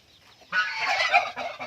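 Farm chickens cluck in a short burst of nasal, throaty calls that start abruptly and carry on for about a second, fairly close against a quiet background.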